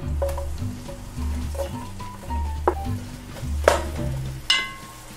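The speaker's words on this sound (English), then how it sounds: "we're gonna saute our onions and our peppers in peanut oil" Onions and peppers saute in peanut oil in a large stock pot over medium heat, giving a soft, steady sizzle with intermittent stirring scrapes and clinks of a utensil against the pot.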